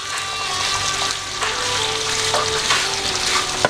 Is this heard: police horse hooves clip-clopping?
no